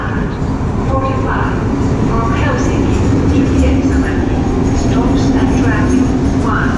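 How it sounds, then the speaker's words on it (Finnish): A train rumbles steadily nearby with a low continuous roar and faint squeals and clatter, as if pulling into a platform at Jyväskylä station in Finland. "Siinä se meidän juna on."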